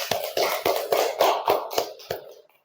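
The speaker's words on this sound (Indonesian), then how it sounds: "Tepuk tangan untuk kelompok 3." A classroom gives group 3 a round of applause: about eight loud, evenly spaced unison claps in a steady rhythm, fading out at the end.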